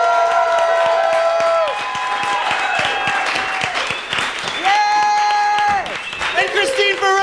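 A studio audience applauds and cheers for a comedy show's cast as their names are read. Dense clapping runs throughout, mixed with sustained tonal music and voices.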